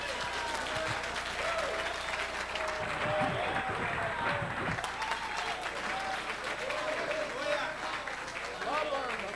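A church congregation applauds continuously, a dense wash of many hands clapping close and loud, with a preacher's voice and crowd cheers mixed in throughout.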